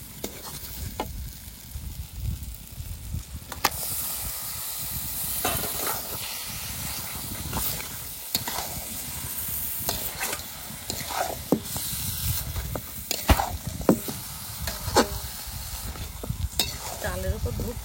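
Mutton pieces frying in a pan with spices, a steady close sizzle under repeated scraping and stirring strokes, continuous throughout with no talking.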